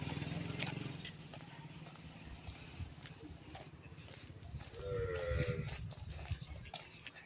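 Many sheep sitting in front of a house bleat a few times outdoors in a Bankura village, amid a busy rural background with scattered animal noises and distant clatter.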